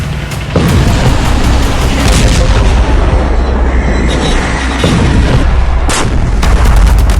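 Israeli tank fire during a ground attack in Gaza: loud, sustained booming blasts and rumbling gunfire, with a sharp report near the start and another burst later.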